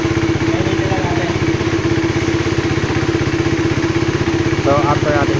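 A KTM Duke 390 motorcycle engine with a misfire and hesitation fault, running steadily after warm-up, a loud close pulsing idle with a voice talking over it.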